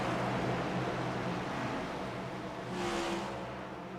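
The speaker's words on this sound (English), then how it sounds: "drops the hammer. You see that whole front end of the car lifting up as he goes through the gears here into turn 1" An iRacing race car accelerates hard through the gears on a restart into turn 1 at New Hampshire, a steady loud engine roar with a brief swell near the end and no talk over it.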